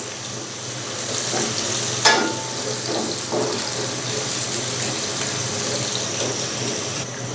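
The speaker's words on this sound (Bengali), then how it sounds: "জিরে, বন্ধুরা এটা এখন আমি ভালো করে ভেজে নেব।" Onions and cumin seeds fry in a pan with a continuous soft sizzle, joined by occasional stirring scrapes and clinks, steady and close with no voices.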